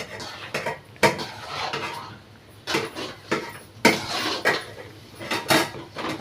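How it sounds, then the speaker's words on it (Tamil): Chicken and other ingredients being mixed in a cooking pot, with repeated scraping and clanking of a spoon against the metal pot in uneven bursts, close and fairly loud, no talking. "போட்ட உடனே நல்லா இப்படி மிக்ஸ் பண்ணிக்கணும்."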